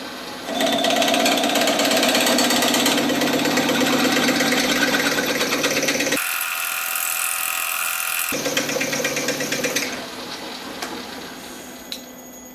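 A drill opens up a hole with a 9.5mm bit, running loud and steady in two long bursts with a brief higher-pitched whine between them, then tapering off.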